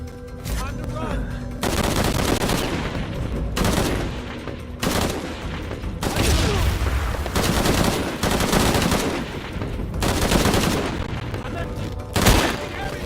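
Heavy, repeated bursts of automatic gunfire in Shadow of the Tomb Raider, loud and close, coming in rapid volleys with short gaps over a constant din of battle, with voices calling out amid the shooting.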